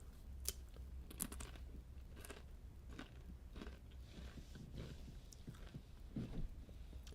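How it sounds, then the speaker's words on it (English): Close, crisp crunching of Doritos tortilla chips being bitten and chewed, a series of sharp snaps and crackles with quiet pauses between bites. "Got these crunchy Doritos."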